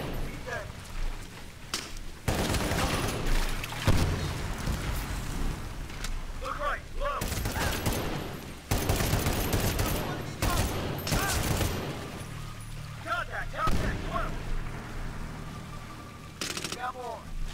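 Repeated bursts of heavy gunfire and blasts roar through combat in Medal of Honor Warfighter, loud volleys broken by short lulls, with voices speaking between and over them.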